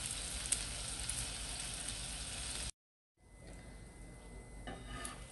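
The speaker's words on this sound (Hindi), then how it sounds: "ऐसे इनको अच्छे से फ्राई करना है।" French toast frying in a pan, a steady bright sizzle that cuts off briefly and then returns quieter with light crackling.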